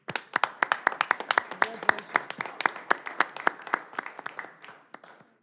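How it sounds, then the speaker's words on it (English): Audience at a city common council meeting claps in a round of applause, with sharp individual hand claps in a steady, moderately loud patter that thins out and fades toward the end, with no one speaking over it. "And I think another round of applause."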